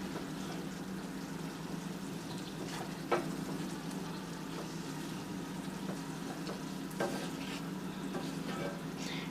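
Ground venison sizzling and frying in a hot pan while a paste is stirred in, a continuous close crackle with occasional scraping stirs and clinks.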